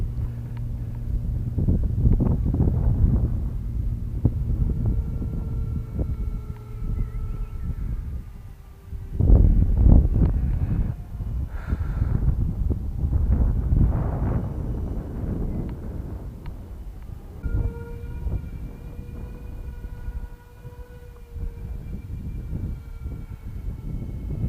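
Strong gusts of wind buffet the microphone at an outdoor RC flying field, giving loud, uneven low rumbling that swells and drops, with a faint motor whine at times.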